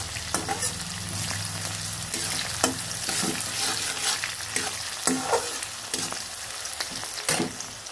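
Ground spice paste and sugar frying in oil for Bengali-style mutton curry with potatoes make a steady sizzle, with repeated scraping and clinking of a stirring spoon close by.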